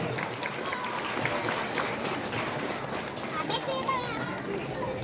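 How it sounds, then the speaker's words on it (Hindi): Audience applause at a Ramayana recitation festival with Holi songs. Dense, steady clapping fills the space, mixed with children's voices and crowd chatter. "जोरदार ताली एक बार।"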